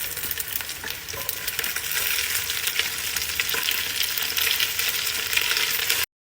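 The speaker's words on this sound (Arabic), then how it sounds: "بحط نص كمية البصل اللي مقطع كبار." Coarsely chopped onion frying in a hot pan, a loud, dense, continuous sizzle with faint stirring scrapes, close up and with no voices, ending abruptly.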